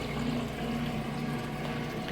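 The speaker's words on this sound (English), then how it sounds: "It's draining that water out." A Whirlpool washing machine pumping water out through a long drain hose, a steady low droning hum with a watery rush, constant and close.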